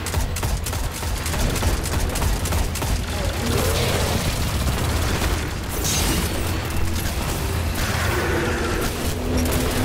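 Continuous gunfire and booming blasts fill a Destiny Nightfall firefight, dense and loud throughout, layered with mechanical weapon noises and a voice speaking now and then.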